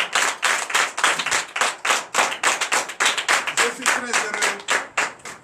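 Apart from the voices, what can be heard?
congregation clapping and acclaiming in church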